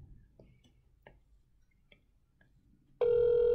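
A telephone rings during a call: after a few seconds of quiet ticking on the line, a loud, steady ringing tone suddenly begins and holds to the end.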